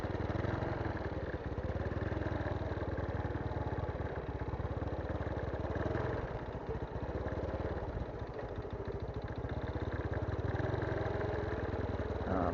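A motorcycle engine running steadily near a lake, a continuous low, rumbling idle with a faint clatter, moderately distant and unbroken.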